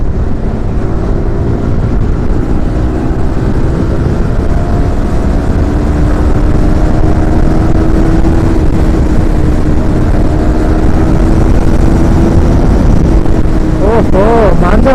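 A Yamaha R15 V4 BS6 motorcycle, freshly serviced, drones loudly while riding, its engine note rising gradually and steadily, with heavy wind rushing across the microphone throughout.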